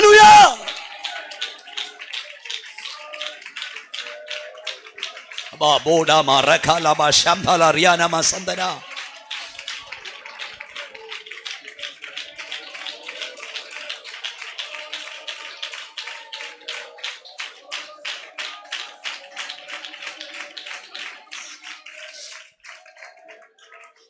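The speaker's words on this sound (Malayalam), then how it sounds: "ശക്തിയോട് കൈയടിച്ച് ദൈവത്തെ ഒന്ന് ആരാധിച്ചോണ്ട് പറ" A church congregation clapping in worship, a long, steady run of rhythmic handclaps that continues under and after a passage of loud chanted and sung prayer.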